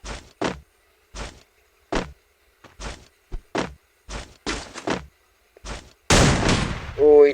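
Video game gunfire pops in short single shots spaced through the clip, each a crisp isolated report, ending in a louder sustained blast and a brief tonal effect, with a voice talking.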